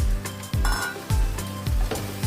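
Potatoes and green peas for a vegetable biryani hit a hot pan with a broad sizzle, and four soft, evenly spaced scraping thumps mark them being stirred through.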